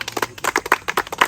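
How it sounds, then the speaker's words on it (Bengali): A group of riders on a bike trip claps for the admin team, a quick burst of about a dozen sharp hand claps close by, uneven and brief. "ওদের জন্য একটু হাততালি হয়ে যাক নাকি?"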